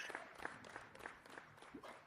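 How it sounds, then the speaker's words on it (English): Small group clapping for Johnny, a faint, quick patter of handclaps lasting a couple of seconds, thin and distant with no voices over it. "that clapping was for Johnny"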